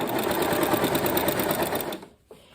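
A sewing machine stitches in the ditch along a fabric seam, running steadily and close for about two seconds before stopping, followed by a brief soft thump.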